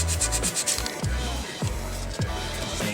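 Rusty brake drum parts on a Daihatsu Terios are sanded by hand, with close rhythmic rubbing and scraping strokes repeating about every half second.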